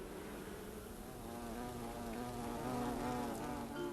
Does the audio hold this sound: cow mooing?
no